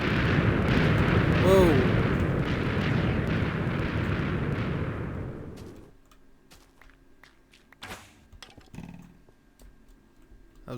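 Minecraft TNT blocks detonate in a loud rolling roar that fades over several seconds, followed by quieter scattered pops, clicks and footsteps, with a player's brief exclamation.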